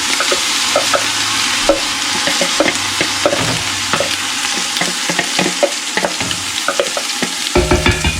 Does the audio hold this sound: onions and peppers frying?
yes